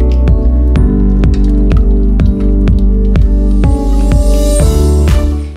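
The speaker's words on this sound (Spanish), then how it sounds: "echando la leche poquito a poco hasta que veáis la bechamel a vuestro gusto" Milk is poured little by little into béchamel sauce in a saucepan, a loud close wet gurgling with regular bubbling plops under a steady tone.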